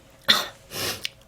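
A person coughs, one sharp harsh cough followed by a longer, breathy second cough ending in a small catch, close and alone against a quiet background.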